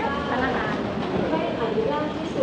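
An airport rail link train at Suvarnabhumi, Bangkok, rumbles steadily as a broad, continuous noise with people talking over it.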